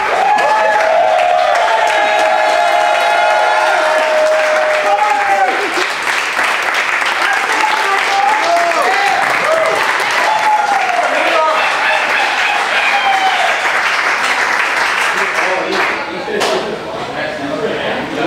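People clapping and cheering in an office, sustained loud applause with whoops and shouts over it, gradually thinning out near the end.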